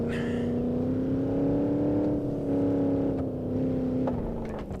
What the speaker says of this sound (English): And we're still accelerating, which means we're alright.